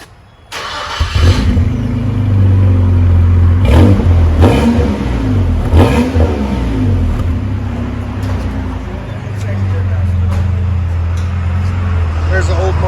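A 2000 Nissan Frontier 3.3L V6 fitted with a Flowmaster Super 10 muffler and 3-inch tip fires up and rumbles loudly up close, with a throaty idle and a few revs, a voice talking faintly over it.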